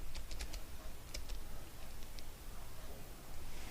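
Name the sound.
typing on a computer keyboard in Excel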